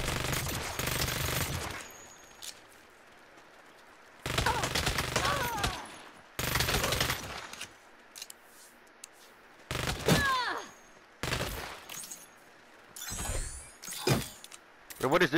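Bursts of SMG fire in Saints Row come in rapid, loud volleys of several seconds each, separated by quieter gaps, with a voice talking between some bursts.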